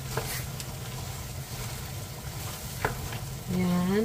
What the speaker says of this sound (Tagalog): So, hahaluin natin. Hahaluin dahil tuyong-tuyo na siya.